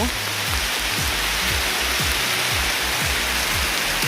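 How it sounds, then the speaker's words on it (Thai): Heavy rain pours steadily on a mountainside, a dense, loud, unbroken roar of water with low rhythmic thumps underneath and no talking. "ตอนนี้ฝนตกแรงมาก"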